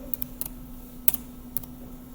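Light, quiet keystrokes on a computer keyboard come in a few scattered taps over a low steady hum, with no voice present.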